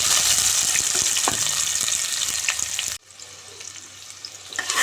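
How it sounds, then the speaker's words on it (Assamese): Sliced onions fry in a pan over a low flame, crackling and sizzling steadily up close for about three seconds before the sound drops to a softer, quieter simmer. "এতিয়া এইখিনি ধুনীয়াকৈ একেবাৰে লাইট পিংক হোৱালৈকে ভাজিম। একেবাৰে ল' ফ্লেমত ৰাখি দিম।"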